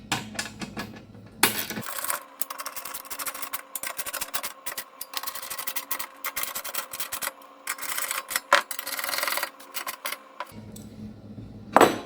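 Ratcheting and clinking of a 1/2 inch socket tightening the bolts on a Toyota Sequoia transfer case skid plate, a steady run of close metallic clicks and rattles that goes on for most of the stretch, with quieter handling noise at the start and end.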